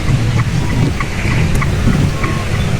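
Steady rain hisses and patters without a break, with faint scattered drips and taps and a low rumble underneath.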